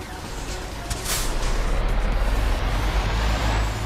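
A truck in Euro Truck Simulator 2 starts and pulls away, its engine rising to a steady, pulsing diesel rumble after a brief air-brake hiss, heard close and continuous without talk.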